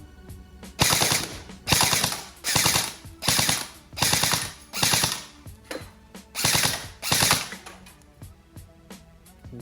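An electric airsoft BB gun fires on full auto in a run of about nine short, loud mechanical bursts, each a rapid ratcheting clatter, with brief pauses between them and no talking.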